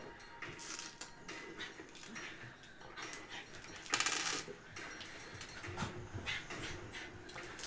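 Dice clatter on a table during a tabletop roleplaying game, a burst of rattling among small knocks and handling noise, fairly close and faint.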